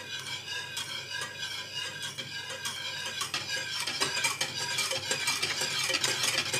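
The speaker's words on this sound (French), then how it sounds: "avec le Neuilly-Prat bien chaud, on va venir verser et remuer en même temps" A whisk or spoon scrapes and clatters in a pan as sabayon is stirred while hot Noilly Prat is poured in, quick irregular metallic strokes under a soft sizzle, close and fairly quiet.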